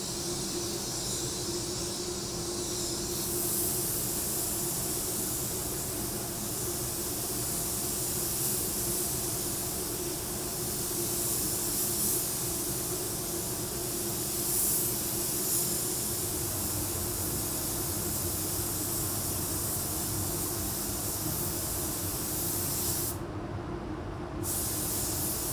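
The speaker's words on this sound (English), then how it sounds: "we'll spray this one as a coat and a half clear" A spray gun lays a coat and a half of clear coat onto a car body panel, producing a steady, continuous airy hiss that runs close and loud for the whole stretch without pause or talk.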